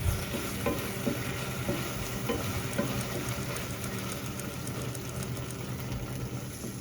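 Ají pepper stirred in a frying pan, a steady close sizzle with repeated scraping strokes of the utensil and a faint low hum beneath, no talking.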